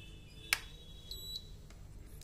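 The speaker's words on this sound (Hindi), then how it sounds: "अब देखिए बजर साउंड भी यहाँ पे आई है" A sharp click, then a single short, high-pitched electronic beep from an induction cooker's buzzer over a low background hum.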